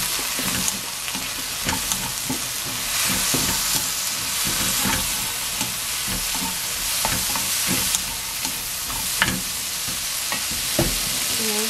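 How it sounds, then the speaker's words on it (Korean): Shishito peppers stir-fry in a hot pan with a steady, crackling sizzle, broken by repeated scrapes and clatters of stirring throughout, and no voices. "고추를 이제 볶아 드시면 됩니다"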